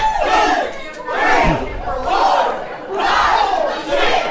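A wrestling crowd at an MWF Saturday Night event chants a count in unison, four loud rhythmic shouts about a second apart that fill a packed arena.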